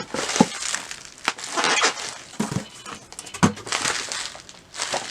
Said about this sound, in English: I'm going to open up my Colored Rain box